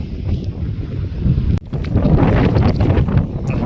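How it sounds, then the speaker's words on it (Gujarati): Strong wind buffets the microphone with loud, rumbling gusts, a brief sharp knock midway, and continuous blustery roar throughout. "પવન ફૂલ નીકળ્યો છે"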